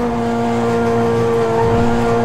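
A car in GTA 5 races along at high speed with a loud, steady, high-pitched engine drone that holds a constant tone throughout, with no one speaking.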